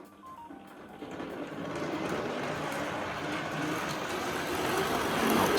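A Tri-ang Hornby model train with the Blue Pullman set rolling over a diamond crossing and point work, a faint motor whir and wheel rumble that grows steadily louder as it nears.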